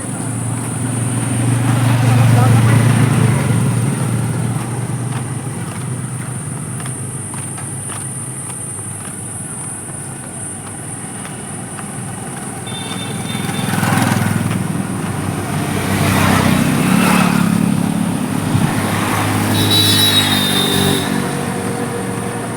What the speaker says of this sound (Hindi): देखो ये गाड़ी जा रही है, मोटरसाइकिल में इंजन बांध रखा है